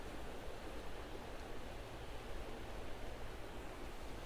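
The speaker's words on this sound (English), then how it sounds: "I'm here, back on the banks of the River Devon." The River Devon flows past a riverbank on a mild evening, a faint, steady rushing wash of water that holds constant without any voices.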